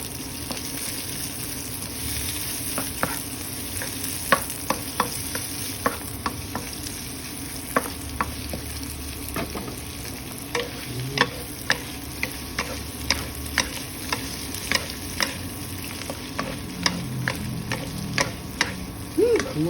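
Onion, spring onions and tomatoes frying in a pan, with a steady sizzle and repeated clicking stirs of a utensil against the pan throughout, no talk.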